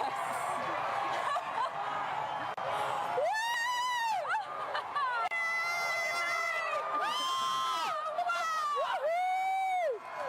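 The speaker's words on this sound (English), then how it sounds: "Wow, the crowd is counting down." A crowd at the April 8, 2024 total solar eclipse counts down and cheers, with loud, rising calls and whoops in several bursts and a close voice talking over the noise.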